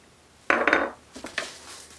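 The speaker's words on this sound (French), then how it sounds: "je viens couper ici les pommes de terre en petits morceaux" Potatoes are cut into small pieces in a kitchen, heard as two short bursts of clattering knife-and-board knocks close by, the first louder, then quiet.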